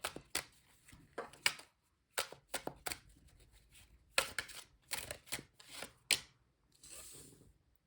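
Tarot cards shuffled by hand, a close series of soft, papery riffling bursts in irregular clusters separated by short pauses, with no talking.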